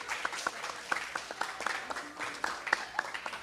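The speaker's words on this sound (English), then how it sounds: "a big applause. Yes." Scattered audience clapping at a third-grade spelling bee for a young participant, a loose run of distinct hand claps at moderate distance, with a voice speaking over it.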